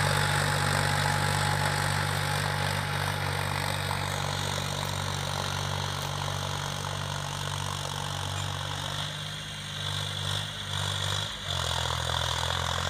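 A 40 HP John Deere 5105 4WD tractor pulling an 18-disc harrow through soil, its engine a steady loud drone with a deep low hum that dips briefly near the end before resuming.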